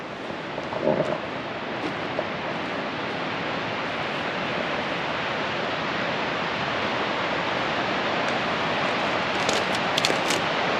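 Velvet Creek rushes steadily into the Middle Fork of the Salmon River, a loud, continuous broadband roar of whitewater filling the whole stretch, close and unbroken with no voices.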